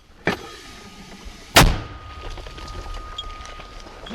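A sharp distant crack is followed by a louder, nearer concussive mortar boom, fired by a mortar crew near Toretsk, then a low rumbling background with faint noises.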